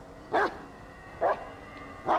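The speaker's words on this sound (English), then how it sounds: "Stop barking when you don't have nothing now." Three sharp dog barks sound at a steady spacing in the Blair Witch video game, each short and close against a quiet, faintly humming background.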